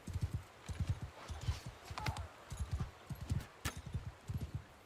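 A sumpter horse's hooves clopping in a medieval Robin Hood video game, a steady galloping rhythm of close, even hoofbeats throughout with no talking over them.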